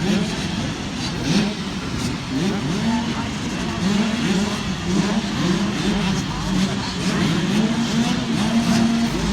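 KTM two-stroke motocross bikes racing on a championship track, engines revving and droning together in a dense, steady roar with rising and falling pitch, close and loud throughout, with a voice speaking over them.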